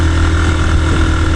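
A motorbike in first gear strains and loses power on a hilly road, its engine a loud, close, steady drone throughout.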